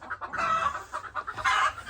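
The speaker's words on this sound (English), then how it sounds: "I'm gonna start letting this group of chickens out in the afternoons when I'm here." Backyard flock of chickens let out in the afternoon, clucking close by in quick, irregular bursts of short calls, one bird louder than the rest near the end, with no talk.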